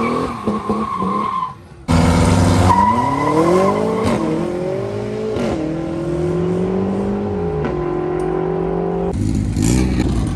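A Nissan Skyline GT-R R33 drag car launches hard, its hood-exit exhaust blaring loud and close as the engine revs climb through rising, sweeping tones with tire squeal, after a brief dip, then cuts back near the end.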